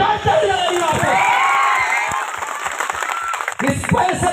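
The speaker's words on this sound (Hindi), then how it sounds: "इस 65 साल के नौजवान के लिए जोरदार ताली लगाइए आप।" A large outdoor rally crowd claps and cheers loudly, with whoops and shouts mixing into a dense burst of applause that continues under a voice on the public address.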